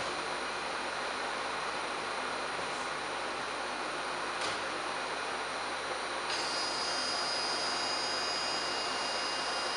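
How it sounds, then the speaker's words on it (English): A hydraulic ram load cell test machine pulls 100% Kevlar tubular webbing toward breaking, producing a loud, steady broadband drone that runs unbroken for the whole stretch with no voices. "I'm going to turn on my load cell machine. I'm going to hydraulic ram, and we're going to pull until it breaks."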